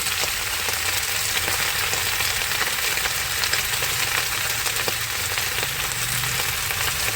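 Leafy greens with stems and green chillies fry in a pan, giving a loud, dense, unbroken sizzle that fills the whole stretch up close, with faint stirring and no voices.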